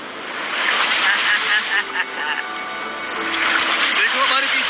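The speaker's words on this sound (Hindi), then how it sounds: "ये आई बड़ी लहर।" A big ocean wave surges in near a mysterious island, a broad loud roar of surf and splashing water that swells, dips, then builds again, with wind noise throughout.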